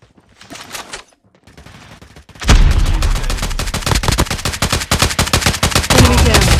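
Gunfire in the mobile shooter Call of Duty Mobile, opening with a few scattered shots and then dense rapid automatic bursts, loud and close, running continuously to the end.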